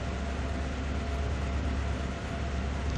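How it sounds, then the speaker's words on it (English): A heavy freight locomotive engine in Train Sim World 2 at Horseshoe Curve gives a steady, dense rumble and roar that stays constant throughout, with no voices. "the engine sounds pretty nice"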